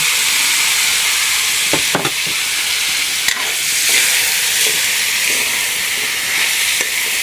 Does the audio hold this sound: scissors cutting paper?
no